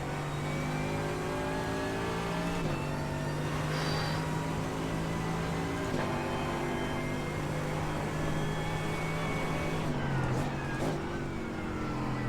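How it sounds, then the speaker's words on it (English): Race car engine in iRacing on the Nordschleife, droning loudly and steadily throughout, with pitch drops and blips marking downshifts near three, six and ten seconds. "those downshifts just sound great"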